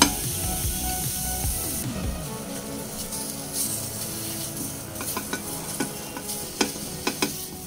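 Whole spices being stirred while dry roasting in a pan, with repeated scraping and rattling of the spatula over a low hiss, and sharper clinks growing more frequent toward the end.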